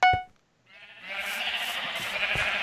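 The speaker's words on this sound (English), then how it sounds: "Shear sheep." A sheep in a Minecraft sheep-shearing minigame gives one short, loud, nasal bleat at the start, then steady, busy game noise with faint clicks takes over for the rest of the clip.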